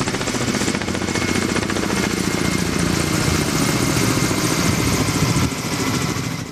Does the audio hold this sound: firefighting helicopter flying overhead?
yes